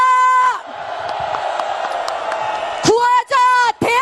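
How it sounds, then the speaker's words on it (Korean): A large crowd at a South Korean political rally roars and cheers continuously, loud and close, with a speaker's amplified voice shouting over it in bursts near the end. "함성을 지릅시다."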